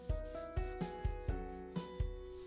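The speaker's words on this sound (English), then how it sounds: "allow it to dry, then sand the area." Hand sanding of dried joint compound on a repaired ceiling patch during popcorn ceiling removal, heard as a steady run of close, rhythmic scraping strokes, about eight in quick succession, with no talk.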